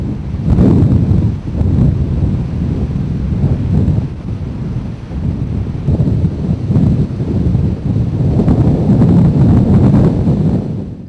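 Strong storm wind gusts in Harlingen roar into the microphone, a loud continuous low rumble that swells and eases in waves, with faint surf-like wash and no voices.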